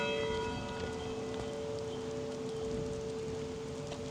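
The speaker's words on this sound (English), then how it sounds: "oh man, the bell's ringing" A large clock tower bell in a small rural South Carolina town rings out with a sustained, humming tone that hangs steadily over a soft background hiss, with no talking.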